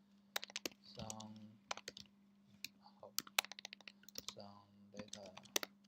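Computer keyboard typing in quick, uneven bursts of close, crisp clicks, with someone speaking in between and over the keystrokes and a faint steady hum underneath.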